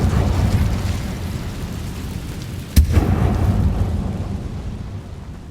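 A fire spell bursting in Hogwarts Legacy: a sudden loud whoosh-crack at mid-clip over a steady rumbling game backdrop, with no talk.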